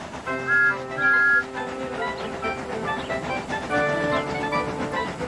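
Steam engine whistles sounding in several sustained tones, some overlapping, against a background of hiss and rail noise.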